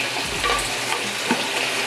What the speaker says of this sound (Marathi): आणि आता हे व्यवस्थित आपण परतून घेऊया. आपला कांदा सगळीकडे लागायला हवा चिकनला